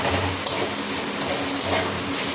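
Flowers frying in a pan give a continuous close sizzle, with a few light stirring scrapes over it.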